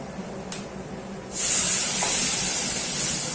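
A soft clink, then a sudden loud sizzle as ground tomato is poured into a hot pan and keeps hissing steadily.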